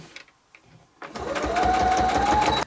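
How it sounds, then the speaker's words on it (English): A sewing machine stitching a pillow seam with a back stitch, starting after a second of quiet with a few soft handling sounds, then a loud, fast, steady mechanical whir and needle chatter up close. "So you'll want to do a hefty back stitch at this point."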